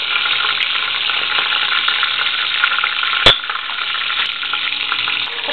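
Chicken pieces seasoned with salt, black pepper and spices fry in a hot pan, giving a steady loud sizzle with a single sharp clack of a utensil partway through.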